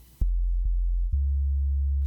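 Deep, steady sub bass tone in a music track, droning continuously and loud, briefly interrupted twice before settling into a sustained low hum, with no one talking.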